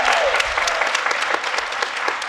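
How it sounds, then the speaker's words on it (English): Audience applause at a Native cultural princess pageant at MCC, sent off to an outgoing titleholder: dense, steady clapping from a large crowd, loud and continuous for the whole stretch. "let's give our outgoing miss a round of applause."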